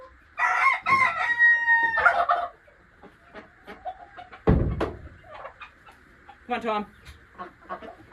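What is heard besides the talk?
chickens clucking and crowing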